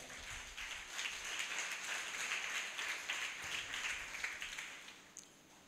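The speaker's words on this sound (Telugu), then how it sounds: "చప్పట్లు కొడదా?" Congregation clapping at a Telugu church worship service, a steady sustained patter of many hands applauding together at a distance, fairly faint, with no talk over it.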